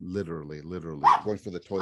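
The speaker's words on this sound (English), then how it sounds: "Oh, the dog is barking." A small Pomeranian mix dog gives a few sharp, close yaps that break in over a man's ongoing speech, with one bark near the middle and another at the end.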